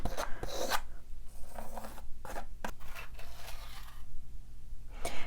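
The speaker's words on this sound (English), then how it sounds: "You can take your paint knife right up to that line and drag your color through" A palette knife drags paint across a canvas in repeated close scraping and rasping strokes, with short gritty swipes at irregular intervals over a low background hum.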